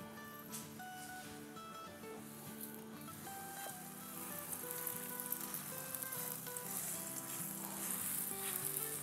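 Naan dough cooking in a tablespoon of oil in a frying pan over medium-low heat, a soft continuous sizzle that grows slightly louder midway, close but fairly faint.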